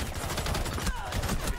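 Gunfire in Rainbow Six Siege, a dense stretch of rapid shots cracking one after another with little pause, loud and close.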